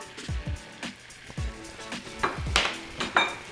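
Flour being stirred into melted butter in a pan for a roux, a spoon scraping and clinking against the metal in an irregular run of soft knocks, close and quiet.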